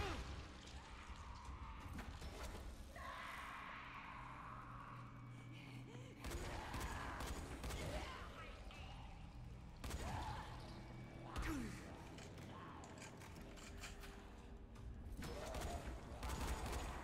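Gunfire in the zombie action game Dying Light, a busy run of game shots and impacts over a dense, loud soundscape, with a voice talking at times.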